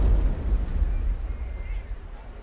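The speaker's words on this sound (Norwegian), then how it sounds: "Det ble foretatt en veldig sprengning med 8 tonn sprengstoff." A mine blast of eight tonnes of explosives at Sydvaranger near Kirkenes rolls out as a deep, heavy rumble that slowly fades over a couple of seconds.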